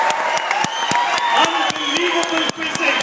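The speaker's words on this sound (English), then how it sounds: "Clap, clap, clap, clap for it" Rhythmic group clapping at the TCS IT Wiz 2012 quiz show in Pune, sharp evenly spaced claps in a steady beat with someone talking loudly over them.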